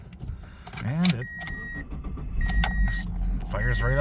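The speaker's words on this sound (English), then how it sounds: "fires right up like a normal car" A 2003 Toyota Matrix XRS running on E85 fuel cranks briefly and fires up, settling into a steady close idle, with a person talking over it.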